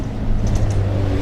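City bus passing on the road at night, a loud, steady low engine rumble with traffic noise close by, no voices.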